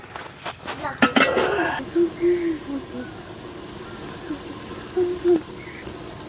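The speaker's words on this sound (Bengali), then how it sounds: "এবার কিছুক্ষণ চাপা দিয়ে রেখে দেবো।" A lid clatters onto a cooking pot of thor (banana stem) and prawn curry, with a few sharp metallic clinks, a steamy hiss, and short bursts of a voice talking.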